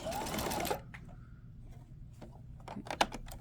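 A domestic sewing machine runs in a short, dense burst of stitching while sewing a bias facing on a neckline opening, then stops, leaving quieter handling clicks and a few sharp taps near the end.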